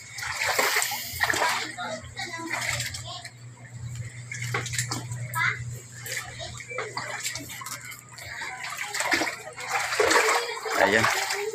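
A boat pushes through a deep, flooded river, giving continuous splashing and sloshing with louder surges throughout, as excited voices talk over the water and a low engine drone runs beneath.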